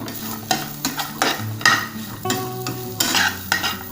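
Grated coconut stirred into hot oil in a pan while making curry leaf thuvaiyal, with scraping spoon strokes and a steady sizzle, close and busy with no talking.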